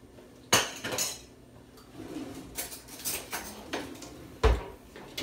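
Cooking utensils and dishes are set aside on a kitchen counter after making stuffed manicotti, with several close metallic clinks and clatters spread irregularly, two sharp knocks standing out.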